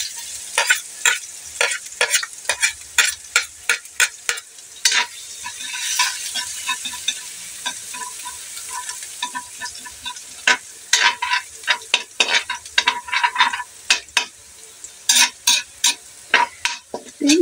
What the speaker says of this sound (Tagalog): bigisan natin yung ating bawang